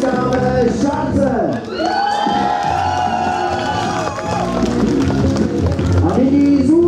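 A crowd at a live contest shortly before a trophy is awarded breaks into loud, sustained cheering and whoops, mixed with music and voices throughout.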